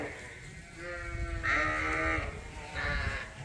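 Sheep and lambs bleat repeatedly on a farm, several overlapping calls rising and falling over a steady outdoor background, fairly close and loud.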